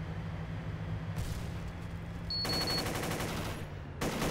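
Automatic gunfire in a military simulation video game: a short burst, then a long dense stretch of rapid rattling fire, and another burst at the end, loud and close with no talk over it.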